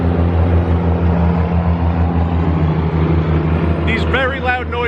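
Heavy trucks carrying pigs to slaughter rumble past on a nearby street, a loud steady low engine drone, with someone talking briefly near the end.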